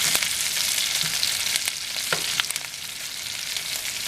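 Meatballs browning in butter and olive oil, a loud bright continuous sizzle and crackle close up, with a few light clicks of turning, no voices.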